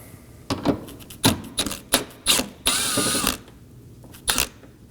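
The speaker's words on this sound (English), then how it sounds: "locate a 10mm bolt. You want to remove that." A ratchet wrench clicks in quick bursts while loosening a 10mm bolt at the corner of a 2013-2019 Nissan Sentra bumper, with a longer run of rapid ratcheting in the middle and a final short burst, close and loud.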